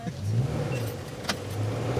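Steady engine rumble from a long Toyota Hilux double cab moving at low speed on an off-road 4x4 challenge course, a continuous close drone with slight rises in revs and no talk.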